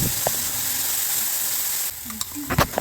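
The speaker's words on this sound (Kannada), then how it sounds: "ಒಂದು ಪಾತ್ರೆಗೆ ಸ್ವಲ್ಪ ಎಣ್ಣೆ ಹಾಕಿ ಸ್ವಲ್ಪ ಸಾಸಿವೆ, ಜೀರಿಗೆ, ಒಗ್ಗರಣೆ ಸೊಪ್ಪು ಹಾಕಿ ಅದಕ್ಕೇನೆ ರುಬ್ಬಿಟ್ಕೊಂಡಿರೋ ಮಸಾಲೆನ ಹಾಕ್ತಾ ಇದ್ದೀನಿ" Mustard seeds, cumin, curry leaves and ground masala crackle and sizzle in hot oil in a pot, loud at first and then quieter, with a few clinks and stirring knocks near the end.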